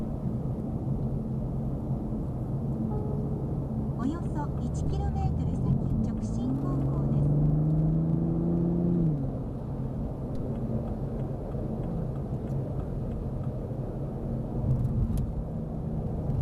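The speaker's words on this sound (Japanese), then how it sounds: "まずは、高速道路合流時の加速を試してみました。" Toyota GR Supra pulling onto a highway in eco mode, its engine note rising steadily in a smooth, restrained climb from around 50 km/h with road noise underneath, heard from inside the cabin.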